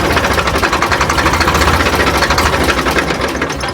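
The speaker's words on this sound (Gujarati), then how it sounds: "ટ્રેક્ટર બંધ કરવા દે." A tractor engine chugs steadily and loudly with a rapid rhythmic knock, close by, with no voices.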